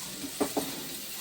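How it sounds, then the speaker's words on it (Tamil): Two onions sautéing in a pan for a home-style tilapia fish gravy, a faint steady sizzle under broadband hiss with two brief stirring scrapes close together. "ரெண்டு வெங்காயம். ஜிலேபி மீன் கிரேவிக்கு இது போட்டு வதக்கணும்."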